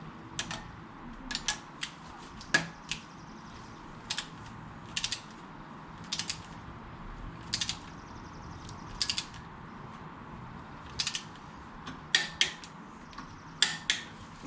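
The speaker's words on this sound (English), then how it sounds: "now I'm going to tighten bolts A and B to 25 foot-pounds" A ratchet wrench tightens Subaru cylinder head bolts to torque during an engine rebuild, giving repeated short bursts of crisp pawl clicks spaced a second or two apart, close and clear over a faint room hum, with no talk.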